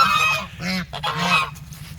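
Several farmyard geese honk loudly and close by in a short burst of overlapping calls, with brief pauses between the squawks.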